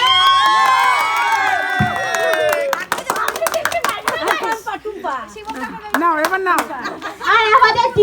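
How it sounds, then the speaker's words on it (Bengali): A crowd claps and cheers at a village prize-giving, with scattered, uneven applause rising and falling. A loud voice shouts and talks over it at the start. "গলা জোরে হাততালি"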